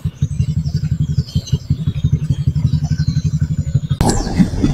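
Low, throbbing motorcycle engine rumble with a steady pulsing idle, close by, from a group of seven motorcycles at night, ending in a louder burst of revving and clatter.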